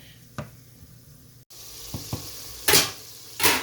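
Chicken tikka biryani masala with boneless chicken and potatoes sizzles and fries in a pot, the quiet frying broken by a few short stirring clatters and scrapes near the end.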